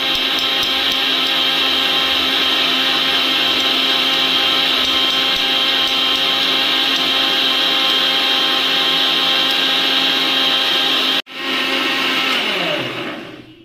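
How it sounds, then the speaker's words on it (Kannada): Mixer grinder blending tomato and mint for biryani, a loud steady motor whine running almost continuously, briefly cutting out near the end, then restarting before winding down. "ಇವಾಗ ರುಬ್ಕೋಬೇಕು ನಾವು ನೋಡಿ"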